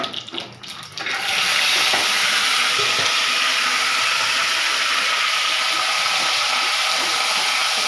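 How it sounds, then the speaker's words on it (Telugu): Green chillies, curry leaves and peanuts frying in a pan for coriander rice, giving a steady, loud hiss and sizzle that starts after a brief quieter second and continues unbroken to the end. "పచ్చిమిరపకాయలు, కరివేపాకు, వేరుశనగలు వేసాను."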